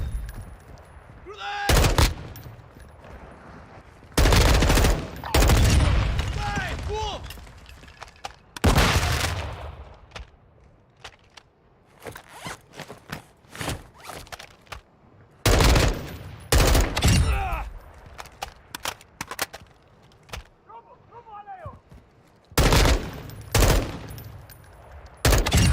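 Gunfire in the video game Warzone 2 DMZ, loud bursts of automatic fire and single shots recurring across the clip, with quieter stretches between exchanges and faint voices in the background.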